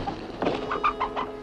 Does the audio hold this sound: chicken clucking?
yes